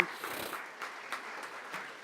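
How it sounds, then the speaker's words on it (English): Steady applause from a crowd at a committee meeting, a continuous patter of many hands clapping at moderate volume, fairly distant. "they deserve a round of applause"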